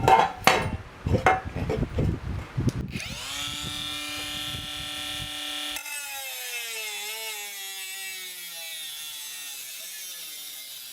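A PRO EKCO 12V brushless cordless 3-inch mini angle grinder cuts into metal channel with several rough, loud bursts, then its motor winds down through a long, fading whine.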